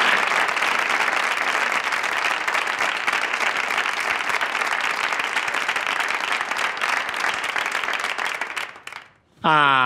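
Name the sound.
applause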